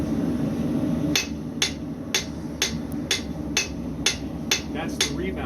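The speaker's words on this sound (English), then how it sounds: "I'm not lifting that hammer in. I'm letting the rebound do it" A blacksmith's hammer strikes an anvil in a steady series of about nine sharp, ringing clangs roughly half a second apart, each followed by a light rebound bounce, over a low background hum.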